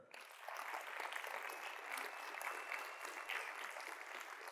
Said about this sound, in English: Let's give a round of applause for the Jack Miller Center.